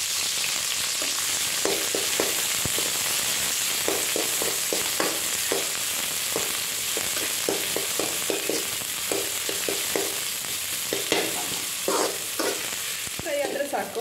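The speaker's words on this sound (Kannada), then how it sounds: "ಇದು ಸ್ವಲ್ಪ ಫ್ರೈ ಆಗಬೇಕು." Garlic and chopped onion frying in oil in a pan, a steady close sizzle with repeated soft scrapes and stirring taps throughout.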